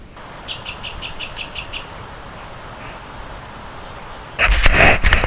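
A chat gives a quick run of bright, repeated chirps at a distance upriver on the Colorado River in Moab, Utah, then goes quiet before a louder burst of nearby noise at the end.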